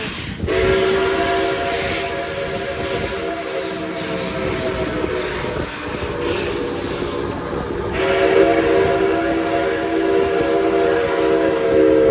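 Steam locomotive Nickel Plate Road 765 runs at full steam, its loud multi-tone whistle sounding in long sustained blasts over a constant rumbling chuff and roar of the moving train.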